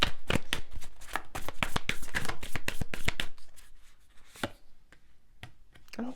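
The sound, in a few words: shuffling tarot cards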